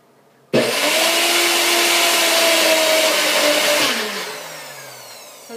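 A Vitamix blender runs briefly to crumble walnuts into raw vegan chocolate banana ice cream, starting abruptly with a loud steady whir, then the motor winds down and fades near the end.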